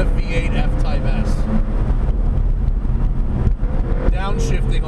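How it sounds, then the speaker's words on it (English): A Jaguar F-Type S with its V8 engine downshifting, loud and close, the exhaust roaring and blipping through several gear changes with crackles, heard over steady wind and road noise. "Downshifting all the way."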